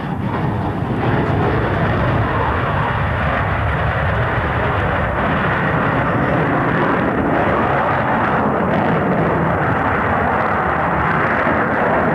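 A jet aircraft roars past in a flying display at the RAF Coningsby airshow in 1992, a loud, continuous, broadband rumble that holds steady for the whole stretch, heard from the crowd line.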